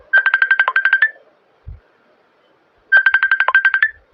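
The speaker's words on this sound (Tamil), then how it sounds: "ரொம்ப நேரமா மிஸ்டர் ஜெகநாதன் ஃபோன் பண்ணிட்டே இருக்காரு" A telephone rings in two loud bursts of rapid pulsing trills, each about a second long, separated by a short silence with a faint low thump between them.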